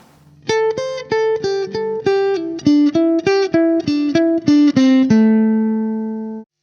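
An electric guitar plucks a minor pentatonic riff, every note picked separately in a steady run of about fifteen clean notes, ending on a long ringing note that fades out.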